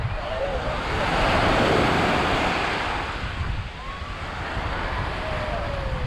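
Ocean waves at Repulse Bay Beach in Hong Kong roll and wash ashore in a steady close surf roar, one wave swelling louder midway, with wind buffeting the microphone.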